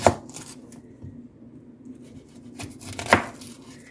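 A kitchen knife cuts through an onion, giving a few sharp crisp chops with soft slicing between, close and fairly quiet, with no talking.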